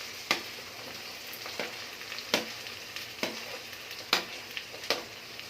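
Chopped vegetables with coriander and mint leaves sautéing in a pan for veg biryani: a steady sizzle broken by sharp, regularly spaced spatula scrapes and knocks, close and clear, no talking.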